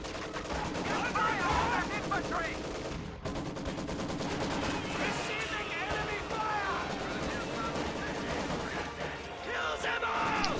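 Bursts of Maxim machine gun fire in a WWII real-time strategy game, rapid rattling volleys mixed with other gunfire and battle noise, running continuously under a caster's commentary.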